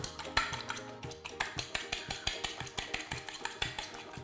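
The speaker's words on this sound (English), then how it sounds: "2 eggs in there. So you're going to whisk those up." Two eggs get whisked in a bowl: quick, regular metallic taps and clicks of a utensil against the sides, fairly faint and close, without any speech.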